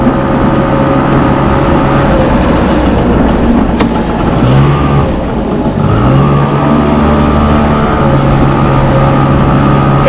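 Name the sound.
Honda motorcycle engine running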